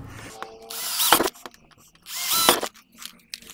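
A power drill boring holes with a 6 mm bit while fitting an LPG system to a motorhome, two loud whining bursts of drilling separated by short pauses and faint clicks.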